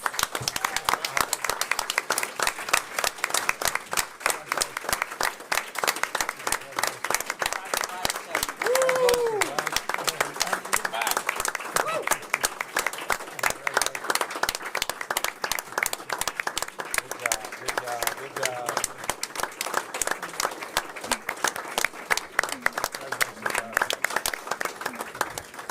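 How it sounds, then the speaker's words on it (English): A large crowd at a school board meeting applauds steadily and loudly for the whole stretch, with dense clapping and a few cheers mixed in. "That deserves another round of applause."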